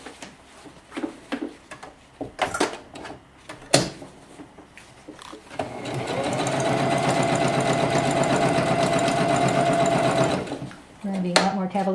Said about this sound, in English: I turned it back to straight and basting the long stitch.